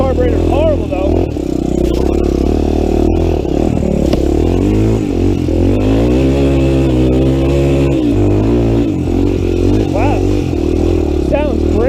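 A Honda 350X ATV engine fitted with a 400EX carburetor runs and revs up and down close by, a loud continuous throbbing with rising and falling pitch sweeps, a voice talking over it at times.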